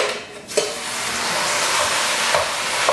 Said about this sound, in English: Put about 2 tablespoons of oil in there. Let it get hot. Add your ground beef.